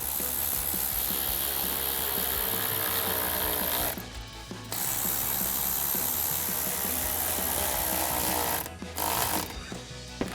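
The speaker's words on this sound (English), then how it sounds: "We're gonna grab our ratchet 10mm socket and tighten these down." Ratchet with a 10mm socket tightening intake clamps during a Silverado 1500 Shortram cold air intake install: continuous rapid clicking and whirring from the pawl, loud and close, with brief pauses between bursts.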